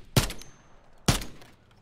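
Two sharp, loud gunshots a second apart from a weapon in a battle-royale video game, each burst cracking out and then ringing briefly, with no talk over them.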